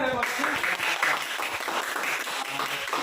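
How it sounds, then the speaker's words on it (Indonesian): Classroom students clap for a pupil named Lia during a teaching lesson, a lively burst of hand claps mixed with chatter and voices throughout. "Tepuk tangan buat Lia"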